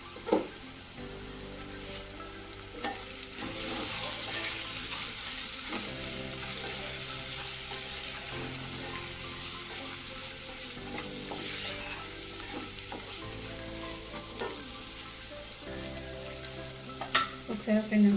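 Potato and pea curry frying with chili powder and turmeric as a spoon stirs the pan, a steady close sizzle with repeated scraping strokes running throughout, no voices.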